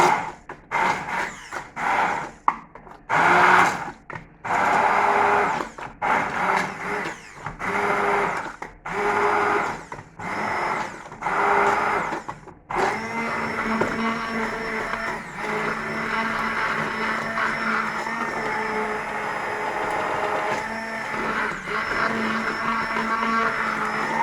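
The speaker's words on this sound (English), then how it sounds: "we'll just puree with the blender" A kitchen blender purees cooked-down onions and chickpeas in stock, running in a string of short loud pulses before settling into one long continuous whir, close and alone.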